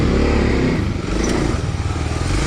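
A Kawasaki KLX dual sport motorcycle engine drones steadily and loudly as the bike rides over whoops on single track, with a constant throbbing hum and slight rises and falls.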